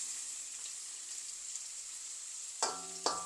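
Bitter gourd frying in a pan over a medium flame, a steady close sizzling hiss throughout, broken near the end by two sharp clanks of a utensil against the pan.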